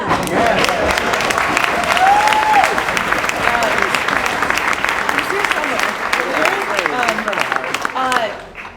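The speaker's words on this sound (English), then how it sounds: "Spike, can you get a round of applause for Spike?" Wedding guests applaud for Spike at Ben and Caitlin Stewart's wedding, loud sustained clapping mixed with a few whoops and cheers, while voices call out and chatter beneath it before it tapers off at the end.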